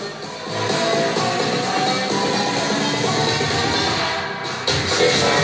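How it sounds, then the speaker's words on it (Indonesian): Music played through an Ashley PRX 7000S power mixer with no subwoofer connected, a steady loud full-range mix with thin low end, continuous and fairly dense, with a brief dip near the end. "Ini suara tanpa menggunakan subwoofer."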